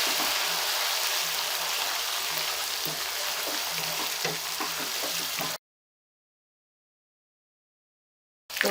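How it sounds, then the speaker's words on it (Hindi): Meat (gosht) frying in a pot with lightly browned onion and garlic gives a dense, steady sizzle with faint stirring scrapes for about five seconds, then cuts to silence before the sizzle briefly returns. "अब हम इसमें गोश्त डालने लगे हैं। इसको अब अच्छे से फ्राई करेंगे"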